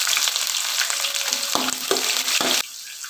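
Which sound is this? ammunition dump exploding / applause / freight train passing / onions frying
onions frying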